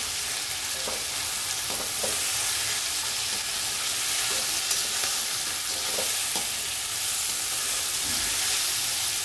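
Paneer and vegetables stirred in a pan for veg biryani, giving a steady close sizzle of frying with repeated scraping stirs and no talking.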